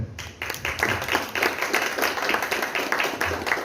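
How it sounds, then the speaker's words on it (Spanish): Audience applause closing a philosophy café talk, steady rapid clapping from a room of listeners, moderately loud and continuous with no speech over it. "vamos a darle un aplauso más fuerte"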